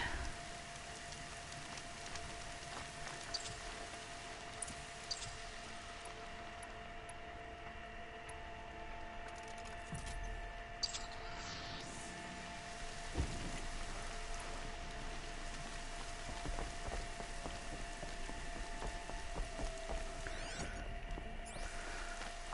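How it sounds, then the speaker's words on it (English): Steady rain falling in the open-world game Horizon Zero Dawn, a soft continuous hiss with faint patter and occasional low game thumps, evenly loud throughout with no talk. "Rain is probably my least favorite weather to play in because it just messes up visibility."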